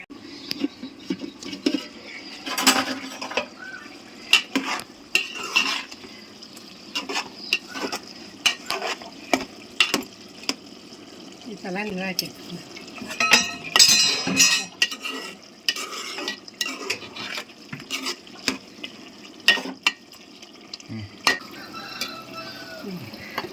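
A pot of country chicken curry cooks on the stove with a soft bubbling sizzle, broken by scattered scraping and clinking as it is stirred, close and fairly quiet throughout.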